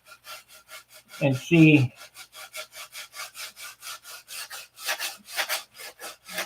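Hand sanding of wood with coarse 80 grit sandpaper, a steady run of rhythmic rasping back-and-forth strokes close up, with a short spoken phrase partway through.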